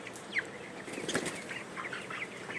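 Chickens on a poultry farm flap their wings in short bursts, a near rustling flutter with faint clucking around it and no talk.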